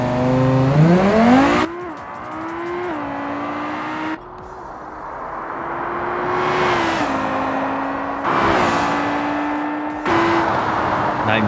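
A Scintilla sports car in the BeamNG racing game, fitted with nitrous, accelerates hard with a loud, steady engine roar that climbs in pitch, drops at several gear shifts and climbs again, with no talk over it.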